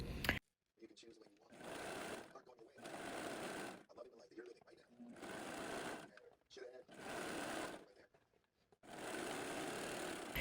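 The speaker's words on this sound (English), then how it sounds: "I trimmed away the excess fabric and finished the raw edges with my serger" A serger finishing raw fabric edges on pants runs in four long, steady bursts separated by short pauses, close and prominent, with quiet clicks and handling sounds in the gaps.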